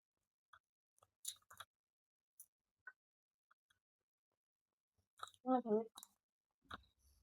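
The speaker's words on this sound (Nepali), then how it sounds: "हड्डी चपाउनु चाहिँ साह्रै मिठो लाग्छ क्या" Chicken wing bones crunched between the teeth in a quiet room, with sparse, close crisp cracks and clicks spread across the stretch, and a brief voice partway through.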